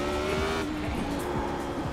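Race car in the iRacing sim dropping down to first gear: engine tone falls and revs through the downshift with brief tire squeal, loud and close, continuous over two seconds.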